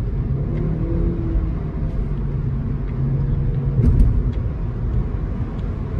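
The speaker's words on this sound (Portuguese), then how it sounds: "Você sente o turbo trabalhando." Chery Arrizo 6 with a turbocharged engine and CVT accelerating, heard from inside as a low steady engine rumble and whir that swells slightly midway, with no talk over it.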